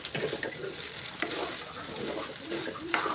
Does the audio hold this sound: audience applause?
no